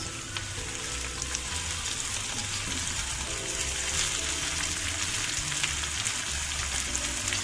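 Gourmet tomatoes and sweet pepper fry in extra virgin olive oil with garlic, giving a continuous, moderately loud crackling sizzle with a steady hiss, close by and alone.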